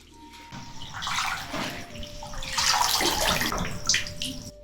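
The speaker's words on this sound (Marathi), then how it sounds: "आता ही भाजी ना स्वच्छ धुवून घ्यायची" Papdi leafy greens are swished and rinsed in a container of water, giving close, continuous splashing and sloshing that grows busier toward the end.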